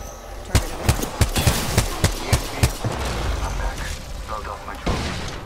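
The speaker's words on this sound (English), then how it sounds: "there's a fucking team shooting all the way over there" Enemy team firing guns from far off in Apex Legends: a dozen or so sharp, distant-sounding shots crack out in uneven bursts, fading after about three seconds, with one more pop near the end.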